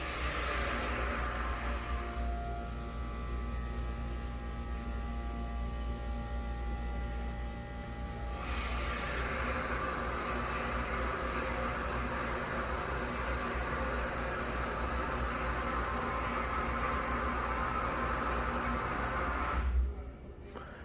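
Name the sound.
Otis HydroFit hydraulic elevator motor running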